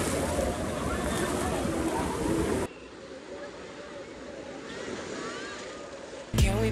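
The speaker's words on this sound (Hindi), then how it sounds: "समुद्र वाली लहरें हैं ओरिजिनल, देखना भी देखना, ये देखो कहाँ तक जा रही है" Artificial sea waves roll and wash in a water park wave pool in Gurgaon, a broad rushing surf that is louder at first and quieter after a cut, with some wind noise on the microphone.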